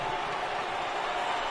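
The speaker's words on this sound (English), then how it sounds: "I can hear the crowd murmuring now" Crowd murmuring at a baseball stadium during a Red Sox game, a steady, dense wash of distant voices that stays even throughout the short moment.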